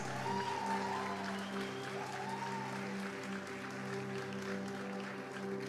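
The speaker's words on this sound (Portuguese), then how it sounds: "Vamos dar uma salva de palmas a Jesus." A church congregation applauds in a steady, sustained wash of clapping, moderately distant, with a low musical drone and held tones running underneath throughout.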